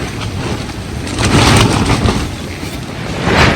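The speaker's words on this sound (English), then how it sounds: "this morning it's pretty windy out here" Strong winter wind roars and buffets outside a tent in subzero cold, loud and broadband with surging gusts that swell and ease, no talking.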